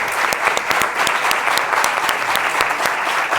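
Loud, sustained applause from an audience at a book presentation for Manuel Pimentel, steady dense clapping throughout with no voices over it.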